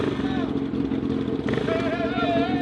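A 2023 Yamaha YZ250 two-stroke dirt bike engine buzzes and revs steadily nearby, with voices and crowd chatter mixed in over the continuous engine drone.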